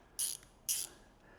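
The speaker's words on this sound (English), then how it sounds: "Milwaukee's come out with a new flex head ratcheting wrench." A Milwaukee flex head ratcheting wrench gives two short, bright bursts of clicking, each about a fifth of a second, close and alone against a quiet background.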